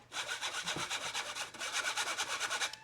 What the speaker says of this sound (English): I'm going to sift all of that together